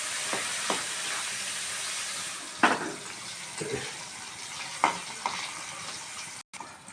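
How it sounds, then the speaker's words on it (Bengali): A small onion frying in a pan for a chicken dish gives a soft, steady sizzle, with a few sharp clinks and scrapes from stirring, quiet and close, with no talking. "পেঁয়াজটা আমার ভাজা ভাজা হয়ে গেছে গিয়ে,"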